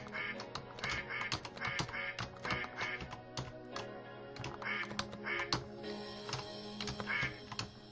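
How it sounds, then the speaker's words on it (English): Repeated duck quacks in the video game I Wanna Get Cultured, sounding in a steady rhythmic series over a busy game soundtrack with clicky percussive sounds, fairly quiet overall. "Quacking's not getting on my nerves, in case you were wondering."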